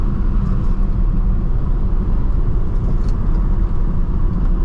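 A BMW E90 328i revving hard above 4,000 RPM, with a loud, steady engine roar and road rumble that hold unbroken throughout, and no voices.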